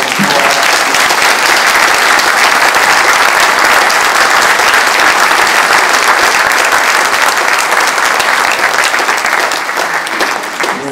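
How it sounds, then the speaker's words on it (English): A crowd at a mayoral candidates' forum gives sustained, loud applause, dense clapping that stays even for around ten seconds and eases slightly at the end. "All right, folks, let's give these candidates an round of applause."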